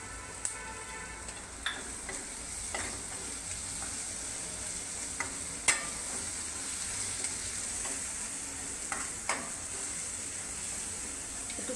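Dry chilli powder and marinade sizzle steadily in a pan as chicken panteras masala is prepared, with scattered ticks and scrapes of a spoon stirring through the constant hiss.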